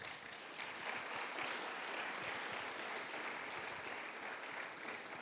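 Church congregation clapping together during a Spanish-language sermon, a steady, dense wash of applause from many hands filling the room at moderate level, with faint voices mixed underneath.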